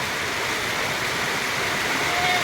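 Steady rushing water from high floodwater pours continuously into a rice paddy ahead of Typhoon Uwan, a loud broadband gush with no pauses or talk.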